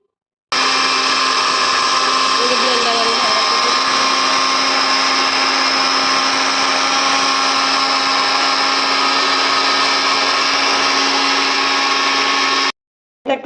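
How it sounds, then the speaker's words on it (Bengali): An electric kitchen blender grinds dried chili peppers into powder, a loud, steady high-pitched whir that starts abruptly, runs unbroken for about twelve seconds, then cuts off. "আজকে হলো আমি ব্লেন্ডারে ভাঙ্গাবো"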